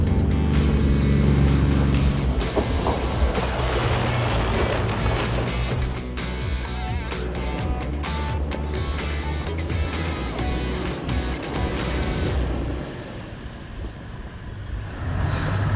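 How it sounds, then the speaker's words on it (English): A 16-year-old Toyota Land Cruiser 100 series climbs a steep hill, its engine a loud, continuous rumble that strains and shifts, easing off near the end. "It's a 16-year-old Land Cruiser, mind you, 100 series."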